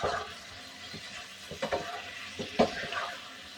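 Prawns, pointed gourd, raw green banana and potato sautéing into a curry in a pan, with soft broadband sizzle and a handful of scraping stirs and light utensil knocks spaced through the short stretch, no talk.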